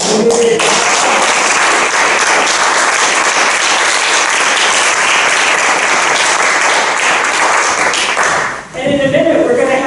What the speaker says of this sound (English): I just want to have an emotional round of applause.